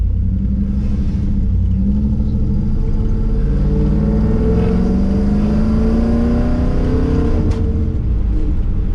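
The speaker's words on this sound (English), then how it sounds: "Car scoots pretty good. That's about half throttle at the most." A 1994 Camaro with a CC503 cam accelerates at half throttle, its loud, close engine note climbing steadily in pitch as it pulls through the gear.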